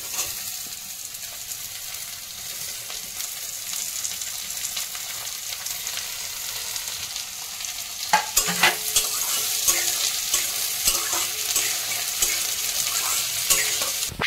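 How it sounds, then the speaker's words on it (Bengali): Salted vegetables with tomato fry in a pan, a continuous sizzle with scraping stir strokes that turns louder and busier partway through, heard alone without speech. "সবজিগুলো একটু নরম হওয়ার জন্য ভাজবো, যেহেতু একটু নুন দিচ্ছি আমি।"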